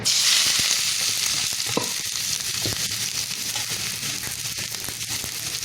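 Sliced onion frying in hot oil for Malabar chatti pathiri, a loud, steady, hissing sizzle filling the whole stretch close up, with a few faint stirring knocks and no talking.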